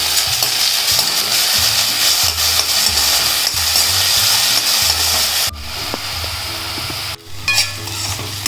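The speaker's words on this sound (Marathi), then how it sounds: "आता कांदा टाकते हिरवी मिरची टाकते कढीपत्ता कांदा परतून घेते" Chopped onion, green chili and curry leaves sizzle loudly in a hot pan of oil for leftover-rice fodni bhat, with steady frying hiss and scraping stir strokes, briefly dropping quieter midway before rising again; no talking.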